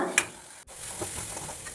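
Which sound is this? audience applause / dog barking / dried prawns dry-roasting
dried prawns dry-roasting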